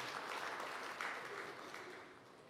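A church congregation applauds, a brief, dense wash of many hands clapping at once, steady and fairly distant, fading slightly toward the end.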